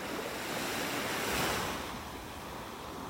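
Big ocean waves wash onto an eroding beach in North Naples, Florida at high tide. The surf is a broad, continuous roar with wind buffeting the microphone, swelling briefly midway.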